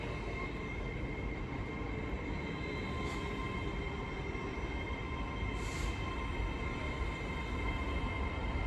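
An LNER Class 800 train runs through the platform at Peterborough station with a steady, even rumble and a faint rail hiss, holding constant and moderately distant for the whole stretch with no voices.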